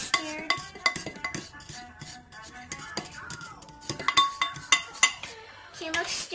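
A mixture being stirred in a bowl during holiday cooking preparation, with repeated clinks and taps of a utensil against the bowl in an irregular rhythm, and voices talking softly in the background.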